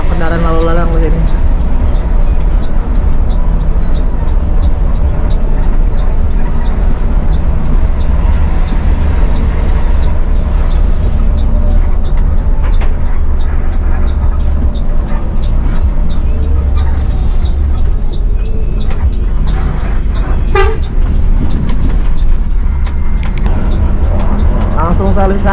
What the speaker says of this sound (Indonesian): Masih banyak kendaraan lalu lalang di sini.